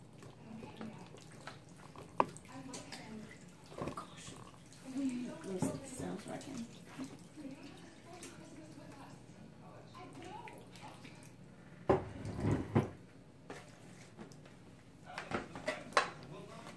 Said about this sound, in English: We're just pouring that broth and soup mixture over our chicken.